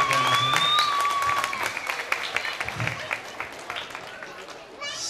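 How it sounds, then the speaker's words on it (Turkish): Wedding guests clap at a civil marriage ceremony, a dense patter of applause that fades toward the end. A whistle-like tone and a voice sound over the clapping at the start. "kocaman bir alkış alalım kendisine"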